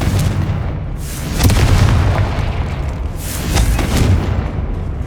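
Confringo blast spell in Hogwarts Legacy exploding with heavy booming bursts, two big rumbling swells a couple of seconds apart over a continuous crackling, fiery roar, loud and close.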